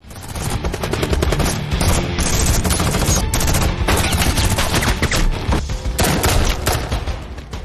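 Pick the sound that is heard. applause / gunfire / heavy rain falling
gunfire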